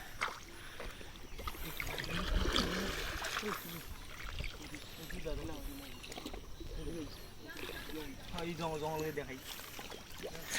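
A boat moves through water on a village river trip, its steady wash and rushing water running throughout beneath continuous nearby talk.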